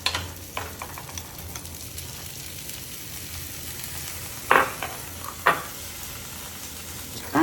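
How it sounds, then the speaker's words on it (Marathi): Onion frying in butter in a hot pan, a quiet steady sizzle with a few brief clinks and handling knocks. "2 टीस्पून मी बटर घालते. बस. ह्याच्यावरती मी कांदा घालते."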